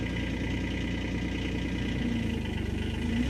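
A 2025 Kubota SCL1000 compact loader's diesel engine runs at a steady idle close by, a constant low rumble with slight vibration and a small shift in pitch partway through, and no one speaking.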